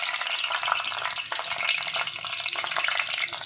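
Green chilies and garlic fry steadily in hot oil, giving a loud, continuous close-up sizzle and crackle that never lets up, with no one talking.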